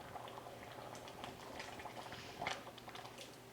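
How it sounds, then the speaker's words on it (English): A pot of Southern beans simmering on a stovetop, a soft steady bubbling with small irregular pops and gurgles, fairly faint and close, with no voices. "My beans are still bubbling away and it's definitely starting to thicken up a bit."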